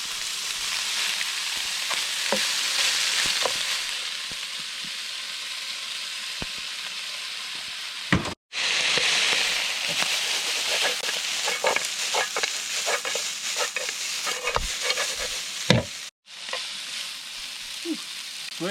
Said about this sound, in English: We get our pasta from earlier, give that a little stir.